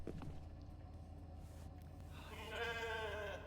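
A sheep in the video game The Alters gives a wavering bleat near the end, over a low mechanical hum and faint background rumble.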